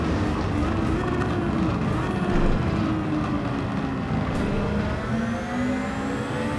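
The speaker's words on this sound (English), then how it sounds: "Tiny bit of nitrous to pop us past him." A Le Mans SF19 Honda race car engine in Gran Turismo 7 drones loudly and steadily under a nitrous boost, its pitch sliding gradually, with a voice speaking faintly over it.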